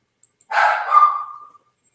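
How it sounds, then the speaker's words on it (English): A single drawn-out dog bark or yowl rises sharply and trails off over about a second, close and fairly loud, with no talk around it. "My dog's acting like an asshole"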